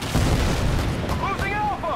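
A Predator missile strike in Call of Duty detonates loudly with a booming blast amid ongoing gunfire, followed by layered rumbling and scattered battlefield noise over about two seconds.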